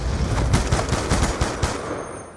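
Rapid automatic gunfire in Black Ops 2, rattling out in dense, uneven bursts of shots that carry on for the whole stretch, loud and close, with no talking over it.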